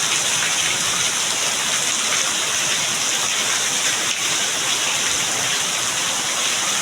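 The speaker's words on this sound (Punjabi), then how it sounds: "ਬਹੁਤ ਜ਼ਿਆਦਾ ਮੀਂਹ ਲੱਗ ਗਿਆ ਜੀ" Heavy rain pours down in a dense, constant roar, loud and unbroken from start to finish.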